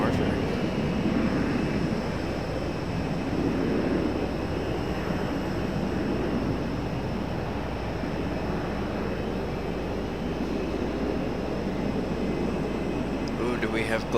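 Jet airliner departing Raleigh-Durham International Airport at night, a steady broad engine roar sustained throughout, with faint voices over it.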